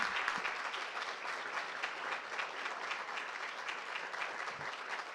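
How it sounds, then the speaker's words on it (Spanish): A seminar audience on computer crime law in Caracas gives a steady round of applause for its five participants, moderately distant and continuous with no talking over it. "les invito a que le demos un fuerte aplauso a nuestros 5 participantes"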